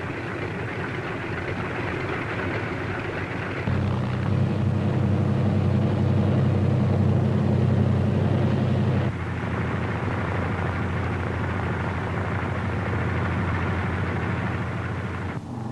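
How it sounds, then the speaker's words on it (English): C-47 transport aircraft engines on D-Day in 1944 drone as the planes move into takeoff position at the head of a runway, a steady heavy rumble that grows louder and deeper for several seconds in the middle. "other C-47s move into position for their takeoff at the head of the runway."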